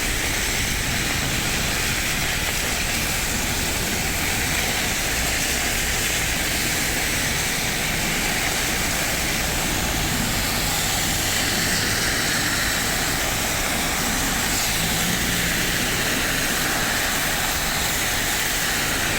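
Trucks approach along a flooded roundabout near Skeoch, Stirling, Scotland, a loud continuous engine roar and road rumble that fills the whole stretch, with no talk.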